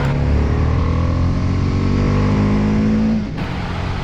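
A BMW G310 R motorcycle engine runs at a steady, loud, close drone while riding, with a rich harmonic tone that drops off sharply near the end.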